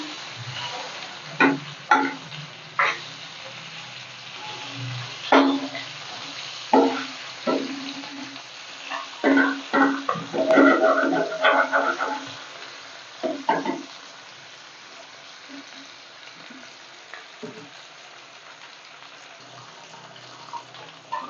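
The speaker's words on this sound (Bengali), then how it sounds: "মাছগুলো ভাজা হয়ে গেছে।" Pieces of katla fish belly frying in a pan, a steady low sizzle broken by scattered crackles and clinks, busiest around the middle before easing off, with no talk.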